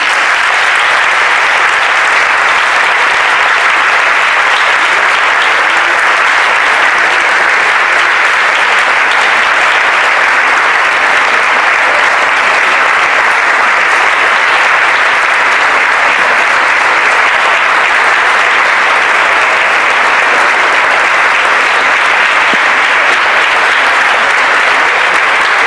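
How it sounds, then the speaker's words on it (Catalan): Loud, sustained audience applause for a choir at a choral association concert in Tarragona, a dense, even wash of many hands clapping continuously for over twenty seconds with no voices. "Un fort aplaudiment pels Rossinyols."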